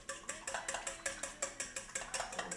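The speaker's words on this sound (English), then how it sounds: "And we're going to stir it up." A spoon whisks celeriac remoulade sauce in a bowl, producing quick, regular scraping and tapping strokes about four or five per second, close and fairly quiet, with no talking.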